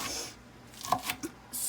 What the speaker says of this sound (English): we'll just keep chopping small like this until you get it to however consistency that you and your family like it